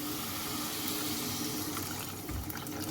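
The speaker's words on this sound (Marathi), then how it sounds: "तर आपल्याला तेवढं पाणी घालायचं, थोडं पाणी जास्त घालायचं." Water pours into a cooking pot holding cowpeas and ridge gourd, a steady, close rushing splash that runs unbroken for the whole stretch with no voices.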